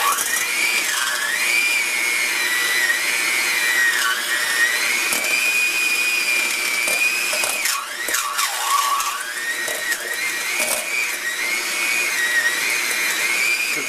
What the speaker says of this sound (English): beating it down with the whipper.